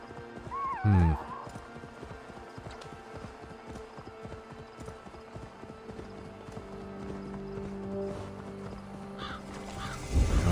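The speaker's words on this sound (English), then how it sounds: "Hey, it's horses, watch out!" Steady clip-clop of hooves at a gallop in the video game Assassin's Creed Valhalla, with a loud horse whinny near the start, plus a crow cawing.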